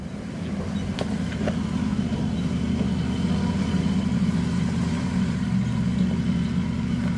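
A four-wheel drive vehicle's engine drones steadily from inside the cab on a rough road, a loud continuous low rumble with faint rattles and knocks over it.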